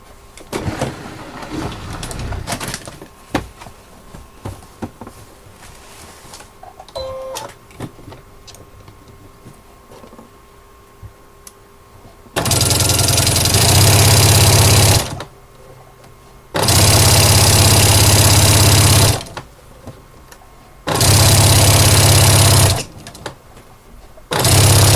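A sewing machine topstitches both sides of bias binding on a fabric notebook or diary cover, running in three loud, steady whirring bursts separated by pauses, after quieter handling clicks and faint rustling.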